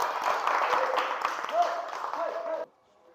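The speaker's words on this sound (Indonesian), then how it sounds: "Tepuk tangan." A class audience claps after a group presentation, a brisk patter of applause lasting under three seconds before cutting off sharply into quiet.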